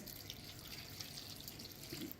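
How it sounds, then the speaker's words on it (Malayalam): A steady stream of water runs and splashes continuously into a pressure cooker, fairly quiet and close, with no voices. "ഇത് കുറച്ചൊക്കെ വെള്ളം ഒഴിക്കുന്നുണ്ട്"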